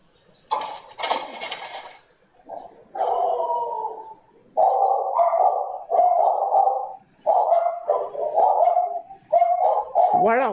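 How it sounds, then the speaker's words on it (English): Dogs bark in a series of drawn-out, strongly voiced bursts, about eight in a row with short pauses, loud and close with little else around them. "Yeah, man, the dog them barking in a different language."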